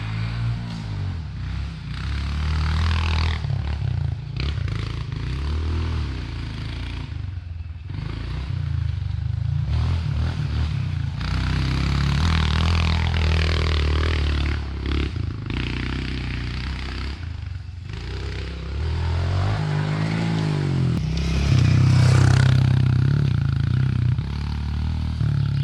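Stock 2022 Honda CRF125FB dirt bike cruising around a yard, its small engine droning and rising and falling with throttle, with rattles and scrapes from the ride, moderately close and steady throughout.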